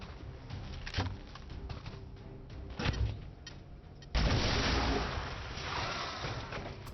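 A plasma grenade detonates in XCOM 2, a loud burst that jumps up partway through and lingers as a rumbling, crackling blast over quieter battle noise and earlier thumps.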